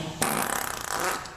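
A voice imitates a fart with a buzzing, sputtering blurt of rapid pulses lasting about a second, loud and close.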